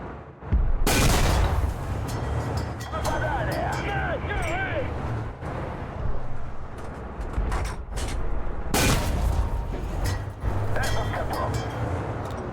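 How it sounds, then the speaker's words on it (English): A tank's main gun fires in War Thunder at an American tank destroyer: two heavy booming shots with long rumbling tails over engine drone, while someone talks throughout. "After a few unsuccessful shots, we finally managed to get rid of him"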